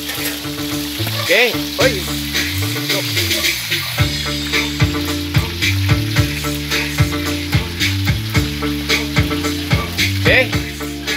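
Sayori (halfbeak) fish frying in a pan, a steady close sizzle running throughout beneath loud tonal background music, with a voice briefly speaking.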